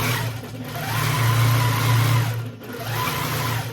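A longarm quilting machine runs steadily as it stitches across a quilt, giving a loud, continuous motor hum with a slight rise and fall and no talking.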